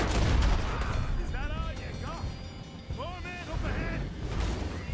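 Rifle gunfire in the Western video game Red Dead Redemption 2, loud sharp reports in a dense opening burst, then scattered shots under a voice talking.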